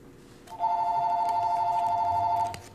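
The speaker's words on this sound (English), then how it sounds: "Phone's ringing, dude." A telephone rings in one steady, loud electronic tone that lasts about two seconds, with a faint background hum before and after.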